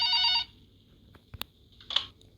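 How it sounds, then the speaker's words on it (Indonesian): A telephone rings in a video game set on a night-shift hospital ward: a brief electronic ring burst at the start, followed by faint clicks and a short beep, with no talking. "Telepon."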